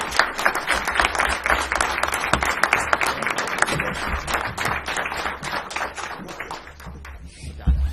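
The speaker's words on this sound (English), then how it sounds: "I would like to give a big thank you to our candidates and invite applause" Lively audience applause for candidates at a nonpartisan county candidate forum, a close burst of many hands clapping that gradually thins and fades toward the end.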